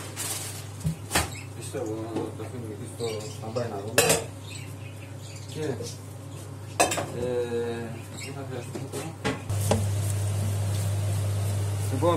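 Metal pot and utensils clatter and clink while minced meat is lightly browned in a saucepan, with sharp close impacts scattered through, steady low stove hum beneath, and someone talking over it.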